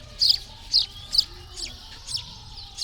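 Chickens clucking nearby, a series of short, sharp clucks and calls in an irregular rhythm over a quiet background.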